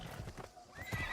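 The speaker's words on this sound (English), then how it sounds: "let's get the horse" Horse hooves clip-clop briefly in Assassin's Creed Shadows, a few quick, moderately loud close steps with a faint whinny, no talking.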